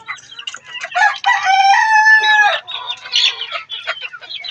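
Laying hens cluck and cackle close by, a busy run of sharp clucks with one drawn-out, crowing call in the middle.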